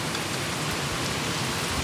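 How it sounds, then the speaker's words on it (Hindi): Heavy rain pours down in a dense, unbroken hiss of drops striking surfaces nearby. "देखो जरा बारिश देखो।"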